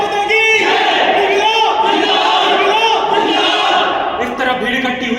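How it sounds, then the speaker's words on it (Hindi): A huge crowd gathered outside a jail chants loudly in unison, a dense roar of many voices rising and falling in repeated slogans, close and continuous throughout. "साहब, बाहर लाखों की भीड़ इकट्ठा हो गई है।"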